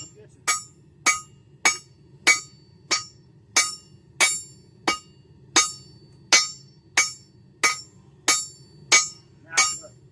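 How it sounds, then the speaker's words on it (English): Hot metal is hammered at a forge in a long, steady series of about seventeen crisp, ringing strikes, evenly spaced and close up, with little else around them. "See your hammering? See how you're nicking it real bad?"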